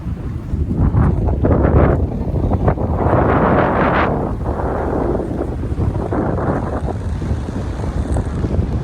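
Strong wind buffets the microphone continuously, a loud broadband rumble and roar that swells and eases, with faint watery wash beneath.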